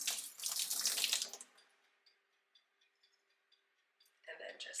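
Water pours out of a sprouting jar into a kitchen sink in a loud splashing rush, fades to sparse drips and ticks, then splashes again.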